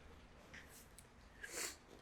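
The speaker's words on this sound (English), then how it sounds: "I can blow my nose" A short, quiet nose blow, a couple of soft breathy bursts ending in one stronger honk, close by.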